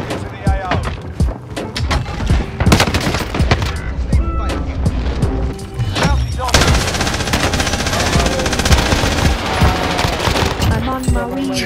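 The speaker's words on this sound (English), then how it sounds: "Why did my gun shoot?" Rapid gunfire in a first-person shooter game, loud bursts of shots crackling in quick succession, spread through an intense firefight and layered with other game effects.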